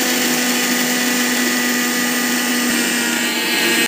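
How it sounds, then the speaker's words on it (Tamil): An electric mixer grinder grinds groundnuts into powder with a loud, steady whirring drone that holds evenly before cutting off abruptly at the end. "ஸோ நம்ம வந்து மிக்ஸிக்கு போட்டுக்கலாம்."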